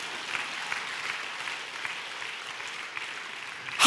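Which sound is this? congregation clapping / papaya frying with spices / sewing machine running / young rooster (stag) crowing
congregation clapping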